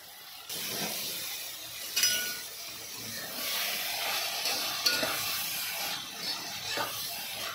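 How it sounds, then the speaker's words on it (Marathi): Chinese cauliflower (broccoli) greens seasoned with red chili powder and salt sizzle as they are stir-fried in a pan, a steady close hiss with occasional scraping clinks of the spatula. "आता छान परतून घ्यायची।"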